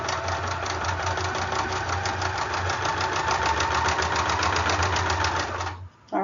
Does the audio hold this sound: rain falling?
no